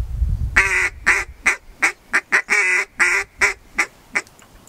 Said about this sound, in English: how to blow your single reed and how to blow your double reed and where those should be located when you're calling ducks